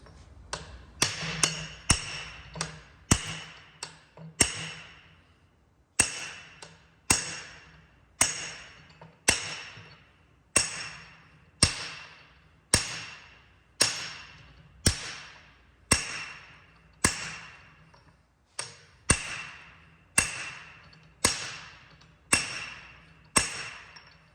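Hammer striking a punch to drive out a front axle u-joint on a Ford F-250 held in a vise, a long run of sharp ringing metallic blows at a steady rhythm of roughly one per second, close and loud.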